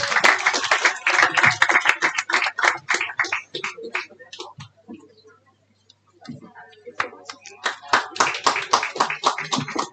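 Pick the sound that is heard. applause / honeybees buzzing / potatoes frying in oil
applause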